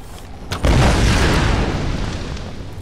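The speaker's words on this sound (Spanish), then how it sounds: "A provocar nosotros la explosión," A deep explosion in Tomb Raider Definitive Edition bursts out after a short pause, then rumbles and fades slowly over the next couple of seconds.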